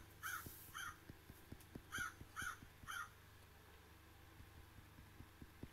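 A crow or raven cawing outdoors, about six short harsh caws in two bursts, fairly distant and clear over a low idling engine hum, with faint clicking ticks throughout.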